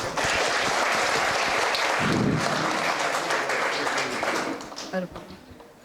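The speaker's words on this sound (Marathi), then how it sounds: "एकदा परत टाळ्या सगळे" An audience at a college cultural event's inauguration in Barshi claps loudly in a sustained, dense round of applause that fades toward the end, with voices mixed in.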